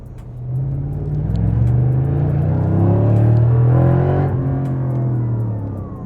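A Mercedes SLR, a roughly 20-year-old design, drives past with a loud, steady engine note that swells and rises as it accelerates, then holds near and strong with no talking.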